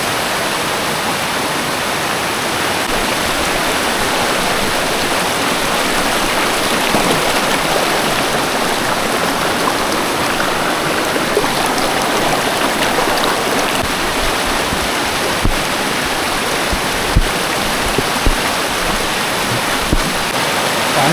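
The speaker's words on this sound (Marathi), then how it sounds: "पाणी खूप जोरात आहे." A river swollen by rain rushes strongly past toward a dam downstream, a steady, loud, broadband roar of flowing water with no break and no voices.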